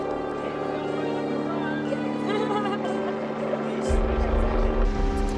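Rescue helicopter hovering low over Piha beach, a continuous, loud, close rotor roar with a deep throbbing pulse that swells louder toward the end.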